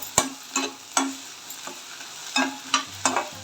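Sharp sizzling bursts of spices hitting hot oil in a pressure cooker for mutton gravy, crackling in quick irregular pops with brief quiet gaps between them, close by.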